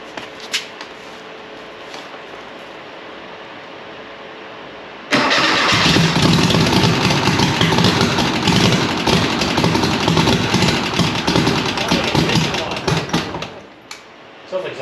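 A Volkswagen 411 with a fuel-system fault is cranked and catches at about five seconds, then settles into a loud, steady idle that runs close by for most of the clip before easing off near the end.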